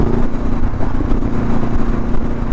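A 1000cc budget motorcycle's engine drones steadily while riding, a continuous close, loud hum with wind rumble and no pauses.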